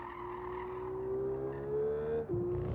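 A car engine in Gran Turismo 7 revving with a steady, rising drone through one long pull, then a sharp break like a gear change and a return to a lower pitch, close and clear with no talk.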